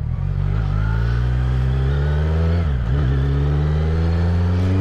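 Kawasaki Z900 motorcycle engine on a track day, a loud, close, steady throbbing idle with a brief dip and blip in revs midway.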